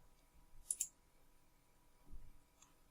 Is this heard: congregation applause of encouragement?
no